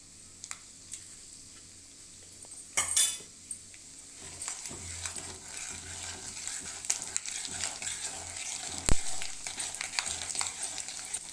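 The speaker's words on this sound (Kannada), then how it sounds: "ಇವಾಗ ಕಡಲೆ ಬೀಜ ಮತ್ತು ಗೋಡಂಬಿನ ಎಣ್ಣೆಯಲ್ಲಿ ಹುರಿಯೋಣ" Peanuts and cashews fry in hot oil in a pan with popping mustard seeds, a steady sizzle broken by sharp crackles, spoon scrapes and metal clinks from stirring.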